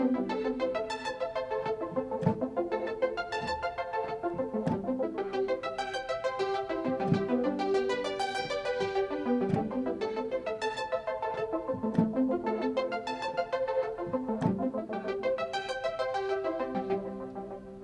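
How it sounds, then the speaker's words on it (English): A synth arpeggio programmed in steady 16th notes, with a sweeping filter that slowly opens and brightens. It rolls on continuously with rhythmic low pulses underneath and has no voices. "Next, I have an arpeggiated synth that I've programmed to 16th notes"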